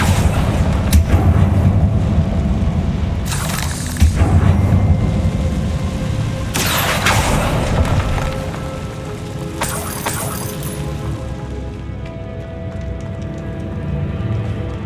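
Bombarda and Confringo explosion spells cast in the Hogwarts Legacy video game: three sharp, loud blasts land a few seconds apart over a steady bed of game ambience.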